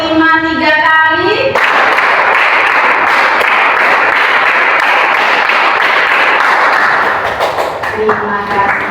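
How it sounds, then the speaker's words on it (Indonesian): A classroom of students claps together in a fast, dense burst of loud, overlapping hand claps lasting several seconds, with a voice speaking briefly before and after. "Tepuk 5 3 kali."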